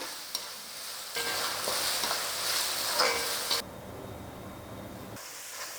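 Tomatoes sauté in a hot pan for a prawn gravy, giving a steady close sizzle and hiss that drops off after a few seconds, then rises again briefly.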